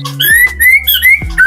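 A white-rumped shama (murai batu) sings a series of clear, rising whistled phrases, about four bright notes spaced through a short burst, close and loud, with a low hum and some thumps underneath.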